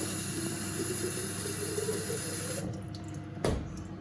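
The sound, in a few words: water filling a bottle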